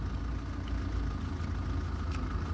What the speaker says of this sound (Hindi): तो मतलब फैन ऑन हो रहा है।